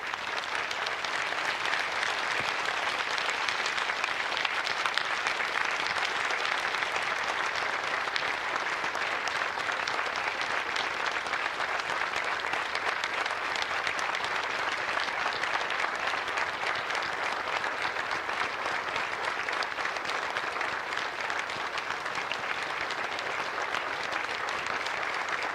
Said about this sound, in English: Will everyone else please stand and join me in expressing our appreciation? A grateful nation applauds you today.